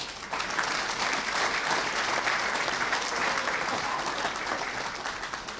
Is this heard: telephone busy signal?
no